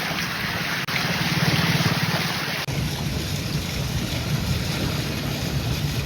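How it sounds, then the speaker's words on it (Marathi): A small Maruti car wades through deep floodwater on a rain-soaked road in Virar, its tyres churning a steady, close rushing wash of water with no voices. "पाणी आता जास्त आहे जिथे तिथे चाललोय"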